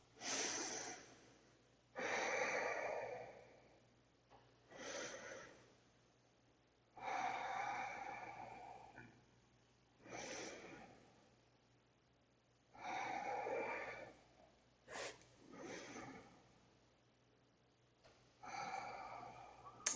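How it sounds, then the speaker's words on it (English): Slow, deep breaths in and out during gentle yoga lunges, each long airy exhale and inhale rising and fading in a steady rhythm, close and quiet, with no talking. "Shifting back as you exhale, and shifting forward as you inhale."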